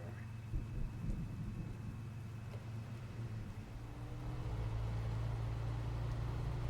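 Rain and thunder in the off-road driving game SnowRunner, a low continuous rumble with steady rainfall and a droning engine hum growing louder toward the end, no voices.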